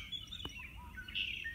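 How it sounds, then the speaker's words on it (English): Cedar waxwings calling outdoors during an owl search, thin high-pitched whistles and trills drifting in at moderate distance over a soft, steady outdoor hush. "There's cedar wax wings."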